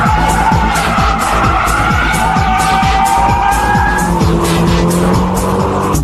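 A Nissan S14 Silvia brakes into a drift, its tires skidding and squealing loudly and continuously over steady engine roar, close and sustained throughout.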